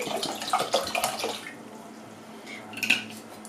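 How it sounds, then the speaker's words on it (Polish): Apple juice is poured into a litre of water, giving a near, bubbling liquid splash for about a second and a half that fades into quiet with a few faint clinks afterward. "Do litra wody dolewam nasz sok jabłkowy."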